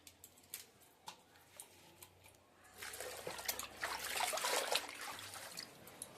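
Washed spinach drains as water runs off the leaves: a few faint drips and ticks at first, then a louder, steady trickling and splashing that carries on to the end.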